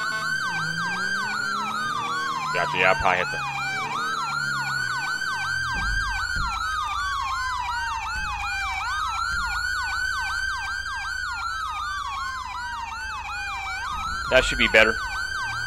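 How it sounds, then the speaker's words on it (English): Custom emergency sirens from a GTA 5 roleplay game wail continuously, with a sweeping up-and-down tone layered over a faster yelp. Someone talks briefly at the start and near the end. "That may be just how the custom sirens are."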